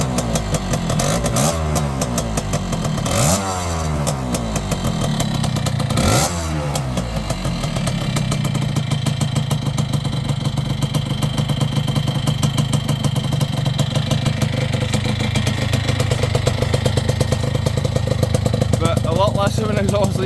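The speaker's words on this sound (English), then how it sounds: "Got a pretty big exhaust leak." Yamaha YB100 motorcycle engine with a large exhaust leak, idling and running steadily up close, with a continuous loud chugging, clattery drone and brief rev swells early on.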